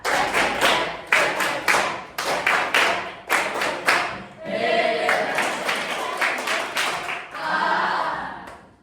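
A classroom of children claps in counted bursts, crisp close claps grouped in short rhythmic sets separated by brief gaps, with a teacher's voice and children chanting between the claps.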